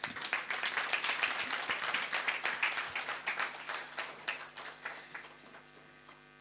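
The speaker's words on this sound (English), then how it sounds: "Let's give her a big round of applause." Applause from an audience at an International Women's Day dinner, brisk crowd clapping in a banquet hall that gradually thins out and fades toward the end, heard alone.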